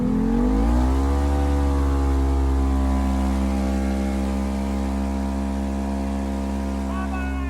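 A turbocharged Ford Expedition races a Ford Ranger, one engine roaring loud and close as it revs up in a rising sweep, then holds a steady droning pitch at full throttle.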